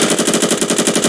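Rapid automatic gunfire from a Roblox shooter game plays loud and continuous, about a dozen evenly spaced shots in quick succession with no talk over it.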